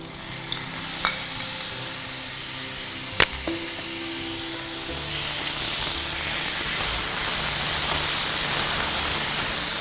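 Chicken slices sizzling in a pan with softened onions, a steady broadband fry that swells louder in the second half, with a few sharp clinks of a utensil early on.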